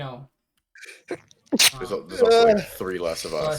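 A single sharp human sneeze, close and loud, bursts out between stretches of casual conversation, with people talking before and after it.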